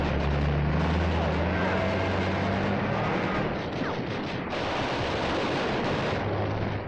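Heavy machine gun fire in the battle for Tarawa, a dense, continuous roar of battle noise with low rumbling, steady and loud throughout, no clearly separate bursts standing out.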